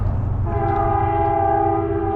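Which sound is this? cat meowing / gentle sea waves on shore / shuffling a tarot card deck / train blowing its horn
train blowing its horn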